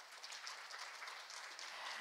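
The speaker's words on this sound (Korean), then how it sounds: "여러분 큰 박수 부탁드립니다" Soft, distant applause from a conference audience after a talk on hydrogen economy policy, a continuous hiss of many hands clapping at low level with no voices over it.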